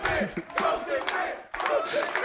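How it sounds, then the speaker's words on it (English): Lively crowd at a live speedrun event cheering and shouting in loud bursts, with a brief dip before a fresh surge of yelling. "Lively crowd already."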